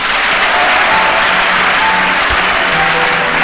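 A church congregation claps together in a dense, loud, sustained round of applause that fills the room, steady and unbroken.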